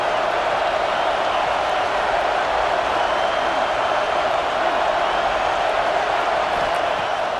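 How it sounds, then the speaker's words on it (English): Steady roar of a stadium crowd cheering in the EA Sports College Football 26 video game, loud and unbroken throughout with no distinct peaks or individual voices standing out. "This crowd knows when to bring it."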